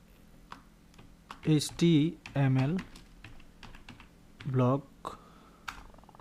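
Typing on a computer keyboard while writing HTML code: quiet, close, irregular key clicks scattered throughout, partly under someone talking.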